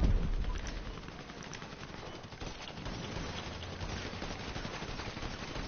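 Sustained machine gun fire rattles in a GTA gunfight, dense rapid bursts running almost unbroken and loud throughout.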